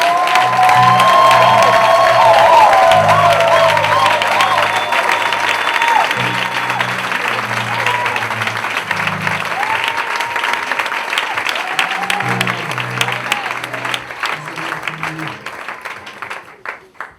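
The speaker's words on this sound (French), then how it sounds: "permettez-moi de recevoir ici l'apôtre Soumela. Par vos acclamations" A church congregation applauding and cheering to welcome an apostle to the pulpit, loud dense clapping with shouts over a sustained low keyboard or organ chord, gradually thinning out over about seventeen seconds.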